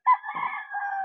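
A gamecock crows once, close and clear: a single sustained, harmonic call lasting about a second, with no talk over it.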